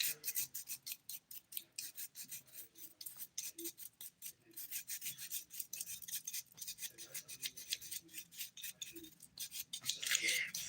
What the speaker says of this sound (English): I just have some rubbing alcohol. I'm just gonna clean my nails with a brush.